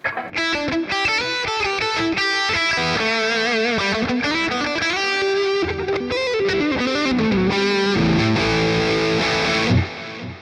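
Electric guitar through a Katana amp with a delay effect, a fast distorted lead line with repeating notes and echoing tails, loud and continuous, no talking.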